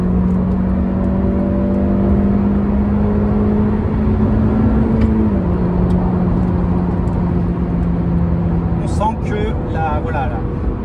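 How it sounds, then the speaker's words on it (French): A Honda Civic 1.8 i-VTEC 140 hp naturally aspirated engine revs steadily upward while accelerating in third gear, a loud continuous rising drone inside the cabin with someone talking over it. "là je suis en 3e, hein, donc évidemment c'est un atmosphérique, on attend que ça monte"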